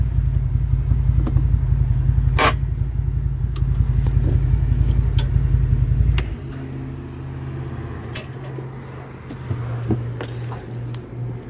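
A new 2022 CFMoto U-Force 1000 XL six-passenger side-by-side drives with a steady, loud engine drone that drops to a quieter idle-like rumble partway through, with some faint rattles and knocks.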